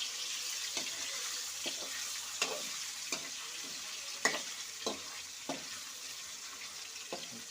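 Paneer cubes fry in hot oil with a steady soft sizzle as a utensil stirs and flips them, giving light scraping knocks at regular intervals of about a second over the constant hiss.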